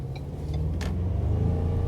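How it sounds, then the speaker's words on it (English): A 2021 Ford Ranger Lariat pickup accelerates gently, a low engine rumble building slightly from inside the cab, steady and moderately quiet. "getting ready to dip into some throttle here again"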